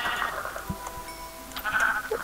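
Sheep bleating in the video game Minecraft, a couple of short bleats sitting over a quiet background with faint clicks.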